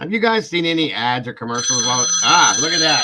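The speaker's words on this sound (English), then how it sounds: "That phone is loud." A loud telephone rings with a sustained bright electronic trill that takes over the second half, heard beneath overlapping conversation from several people.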